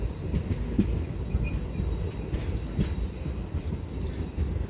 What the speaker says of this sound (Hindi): ट्रेन अब महेंद्रगढ़ रेलवे स्टेशन पर पहुंच चुकी है